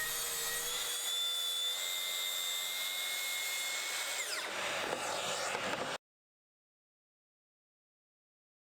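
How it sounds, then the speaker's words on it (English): A track saw cuts through a wooden workpiece for a built-in bathroom cabinet, a loud, steady whining cut lasting several seconds with a shifting pitch near the end, then breaking off abruptly into silence. "And then I made a series of cuts with the track saw."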